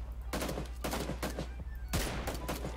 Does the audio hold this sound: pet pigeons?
no